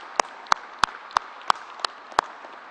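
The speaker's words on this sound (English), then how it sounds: "let's give the National Guard and everybody who's running this a big round of applause" About seven sharp, evenly spaced hand claps ring out one at a time at a COVID-19 vaccination site event, slow and sparse rather than a full burst of applause.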